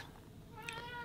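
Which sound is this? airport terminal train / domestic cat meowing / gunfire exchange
domestic cat meowing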